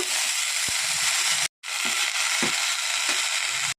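Spinach, eggplant and potato frying in hot oil while being stirred, a steady loud hiss broken by occasional scraping knocks of the spoon against the pan, with one brief silent cut partway through.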